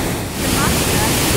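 Tännforsen waterfall in Sweden roars up close as a loud, dense, unbroken rush of falling water filling the whole scene, with no voices.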